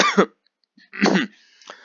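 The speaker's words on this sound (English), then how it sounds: "I was going to cough a bit there." Two sharp coughs close to the mic, separated by a short pause, followed by a quieter throat-clearing rasp.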